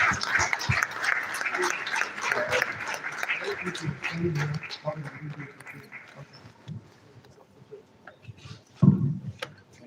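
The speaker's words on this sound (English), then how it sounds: "Please join me in welcoming him for the resounding round of applause." An audience at a university alumni association general assembly applauds to welcome a guest lecturer. The dense applause is strongest at first, then fades under a voice speaking over the hall.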